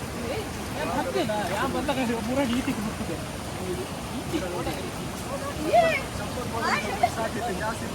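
Rushing water at Mala Falls, the falls running full, spreads a steady broadband roar beneath near, continuous talk from several people, with a few louder splashes.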